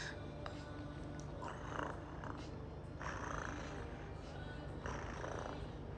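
A person imitating a cat's purr, three soft rough rumbling bursts spaced a couple of seconds apart, faint and close, alone over quiet background hiss.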